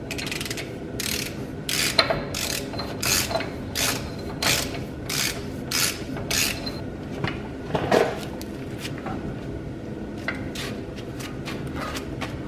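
A ratchet wrench turning a specialty axle socket on a Dodge W150 clicks in repeated bursts of rapid ratcheting, with short pauses between strokes and a brief metallic clunk near the middle.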